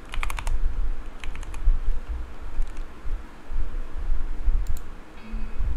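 Short bursts of keystrokes clatter on a computer keyboard while entering text in a Windows start menu search, a few quick clusters separated by pauses over a low background rumble.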